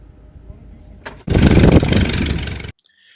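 A de Havilland Tiger Moth's engine catches after a quiet lead-in and roars loud and close for over a second before abruptly cutting off.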